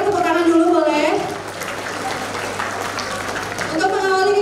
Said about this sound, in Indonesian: Boleh tepuk tangan dulu boleh.